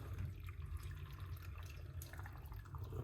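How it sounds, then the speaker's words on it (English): Water pours steadily from close by into beetroot for juice, a continuous splashing stream with a low rumbling body. "Gonna put some water."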